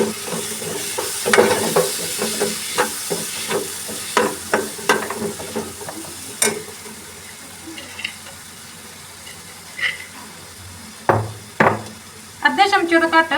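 A spoon scrapes and knocks repeatedly against a pan while masala, tomatoes and green chillies sizzle in oil for Punjabi chole, irregular stirring strokes close by.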